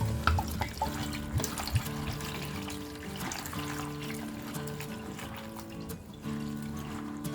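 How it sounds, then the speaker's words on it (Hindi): Bitter gourds rinsed in a sieve set over a plastic bowl under running tap water, a soft continuous trickle and splash with faint clinks, fairly quiet and steady throughout. "अब हम इसे 2-3 बार अच्छी तरह से पानी से धो लेंगे।"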